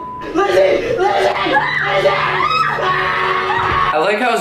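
A woman screams and yells in fright during an overnight paranormal-investigation vlog, shrill rising cries mixed with whoops, nervous laughter and other voices close by.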